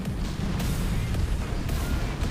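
Thor units firing in the Art of War 3 strategy game, a dense barrage of heavy booming artillery-like blasts that roll continuously and loudly, with sharper bursts punctuating the steady rumble, no voices.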